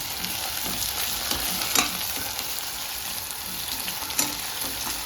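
Tomato frying in oil with softened onion for masoor dal khichdi, a dense, even sizzle up close, punctuated by a few sharp spatula scrapes and clicks.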